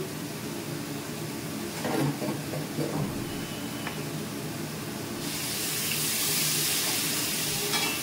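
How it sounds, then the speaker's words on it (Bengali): Ginger and cumin paste, garam masala and chickpeas fry in a hot pan, a steady sizzle with scraping stir strokes early on and a louder hiss swelling over the last few seconds. "এবার সব মশলা ভালো করে কষিয়ে দিচ্ছি।"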